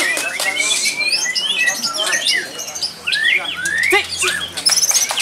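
White-rumped shamas (murai batu) sing at a bird contest: loud, dense, overlapping chirps, whistles and trills pour out continuously from nearby birds, while people call out over them.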